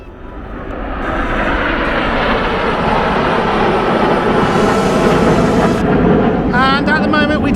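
Red Arrows jets roaring past over a field near the Cosford Airshow, a loud, broad jet rumble that swells within the first second and stays strong throughout, with a high whine appearing near the end.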